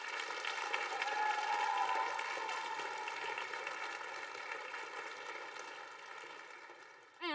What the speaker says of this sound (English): Could we give them a round of applause, please?